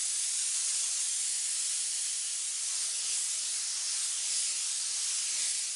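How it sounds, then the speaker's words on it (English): A touch-up spray gun lays black paint across a car bumper with a steady, unbroken airy hiss that holds at a constant level the whole time, close by and with no voices. "I have black in my touch-up gun. I'm going to spray the whole bumper black and spot this black in"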